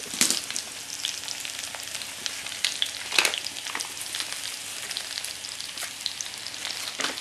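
Country roast and rosemary gravy mix heating in a cast iron fry pan on a survival stove gives a steady, soft sizzle with scattered crackles and pops, close by, with no talking.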